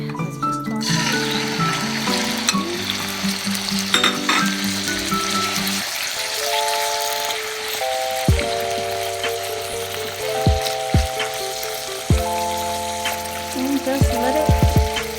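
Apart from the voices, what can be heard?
chicken leg quarters frying in oil in a pan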